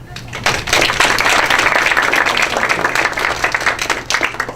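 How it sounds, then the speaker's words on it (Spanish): Applause from a conference audience swells after a brief moment and holds for several seconds, a loud patter of many clapping hands that thins slightly toward the end, with a few louder individual claps standing out. "Por eso le vamos a dar un aplauso."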